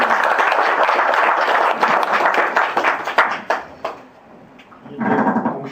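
Audience applause fills a large hall at the founding general meeting of a maritime arbitration association, a dense steady clapping that thins out near the end before a short renewed swell.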